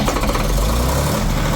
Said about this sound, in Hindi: चलिए दोस्तों स्टार्ट करके आपको आवाज़ भी चेक कराते हैं एक बार दोबारा से।